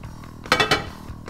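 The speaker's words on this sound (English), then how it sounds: "Now I'm going to add these mushrooms and onions to it." Mushrooms and onions tipped into a pot of coq au vin, a quick pair of close metallic clanks and clinks of utensil against pot, followed by a faint tap.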